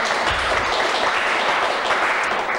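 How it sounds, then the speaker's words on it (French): Studio audience clapping on the French TV game show Des chiffres et des lettres, a steady, dense burst of applause filling the room from start to finish. "Que d'applaudissements pour ce début d'émission"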